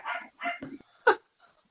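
A dog barks and yips in a few quick close bursts, one sharp louder bark standing out, followed by a faint soft whimper.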